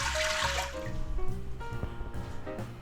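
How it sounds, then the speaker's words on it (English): Water poured into a cooking pot for pinto beans, a close, steady trickle and splash that changes pitch as the pot fills, with no voices. "Now what we need is 2 cups of water."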